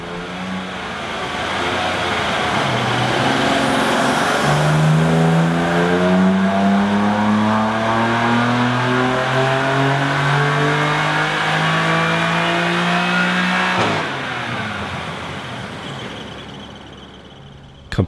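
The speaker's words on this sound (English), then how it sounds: "We then had Sasha from OnPointdyno to come and do some before and after baseline runs of our M4 to see exactly where we ended up." BMW M4 engine pulling hard through a baseline run on a chassis dyno, with a loud, continuous rising rev that climbs steadily, holds near the top, then drops off sharply as the throttle closes.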